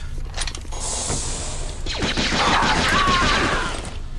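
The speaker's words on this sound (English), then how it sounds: "And then this will extend that bridge so that we can get to that door." A mechanical bridge extends in the game Jedi Outcast at Kejim Base, a loud grinding, creaking machine rumble with ratcheting clatter that swells and holds for several seconds.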